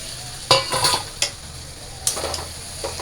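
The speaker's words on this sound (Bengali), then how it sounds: "তো মশলাটা কষানো শেষ, এবার আমি মাংসটা দিয়ে দিলাম।" Meat dropped into spices already fried in a pan sizzles under a few sharp scrapes and clinks of stirring, the clatter coming in short bursts over a constant frying hiss.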